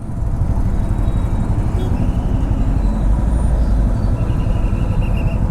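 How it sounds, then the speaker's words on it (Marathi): Steady road traffic noise on the way to Shirdi, a continuous low rumble of passing cars, buses and motorbikes filling the whole stretch at fairly loud level, with no clear individual horn or pass-by standing out. "ट्रॅफिक सगळीकडे ट्रॅफिकचाच विषय आहे रे भाई"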